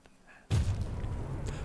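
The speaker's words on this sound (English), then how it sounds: "was not far enough away from the explosion" Bunker blown up in the video game Choo Choo Charles, a sudden heavy boom that cuts in after a quiet moment and holds a loud, rumbling roar to the end.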